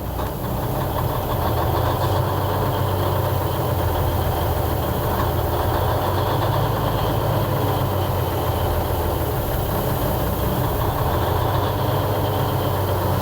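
A 5-ton truck's big diesel engine, with a fuel issue, idles in a steady low rumble with a faint knocking chug, staying nearly even throughout, no speech.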